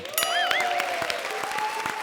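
Studio audience applause on a comedy show, steady and loud crowd clapping under a tonal musical sting with rising and falling tones, continuous for about two seconds.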